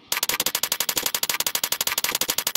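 Rapid automatic gunfire from a video game gun, a loud close burst of about twenty evenly spaced shots in quick rhythm, with no talk over it.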